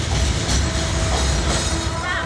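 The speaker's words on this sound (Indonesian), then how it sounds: "suara rel kereta mulai berdecit, tanda kereta akan segera lewat" A passing train rumbles loud and steady along the rail line beside a residential kampung, its wheels grinding continuously on the track with a faint squeal above the heavy low roar.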